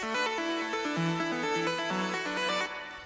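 A bright Massive software synthesizer plays a quick melodic line of stepping notes with rich harmonic tones, clear and alone, ending after about three seconds.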